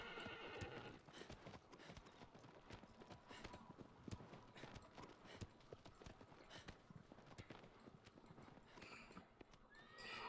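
Horse hooves clip-clop in a steady galloping rhythm with several neighs and whinnies in Shadow of the Colossus (2018), loud and continuous over faint game ambience.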